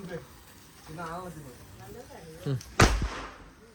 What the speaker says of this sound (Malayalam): അപ്പൊ പിന്നെ ഓലപ്പടക്കം പടക്കാൻ കേട്ടാ.